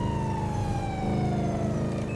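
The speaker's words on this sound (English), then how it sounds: "I'm just gonna turn the sirens off so it's easier to get around people." Police car siren in GTA 5 with LSPDFR mods, a loud, continuous wailing tone sliding slowly downward over engine rumble, steady throughout with no talking.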